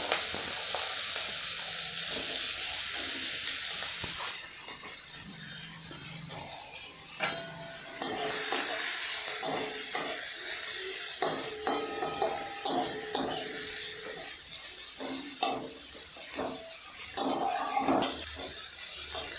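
Chopped onions fry in a generous amount of oil for chicken biryani, starting as a loud steady hiss, then quieter sizzling broken by repeated spatula scrapes and stirring knocks.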